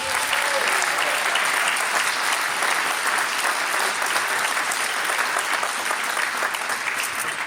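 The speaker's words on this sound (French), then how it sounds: "Je vous demande d'applaudir monsieur Anthony Kerfas" An audience at a sports champions' awards ceremony applauds a pétanque champion, with long, dense, even clapping that is loud and sustained for over seven seconds with no talking.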